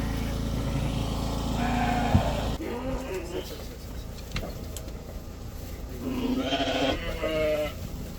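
Sheep bleat a few times on a farm in Russia, wavering calls at moderate distance, mixed with background vehicle or machinery noise and occasional voices.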